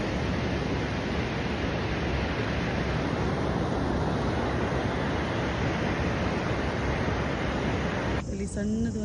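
Waves on PK Beach in Gokarna wash in as a constant, loud rushing roar with no distinct breaks, ending in a brief burst of clattering noise.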